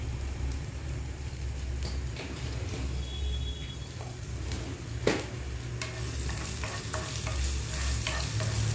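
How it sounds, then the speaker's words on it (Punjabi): Ginger, garlic and chilli frying in hot oil for a potato curry, a close, continuous hiss and crackle with occasional sharper pops and a utensil knock, steady and unbroken. "ਤੇਲ ਗਰਮ ਹੋਣ ਤੇ ਆਪਾਂ ਇਹਦੇ ਵਿੱਚ ਪਾ ਦੇਣਾ ਜੀ ਅਦਰਕ ਲਸਣ ਤੇ ਮਿਰਚ"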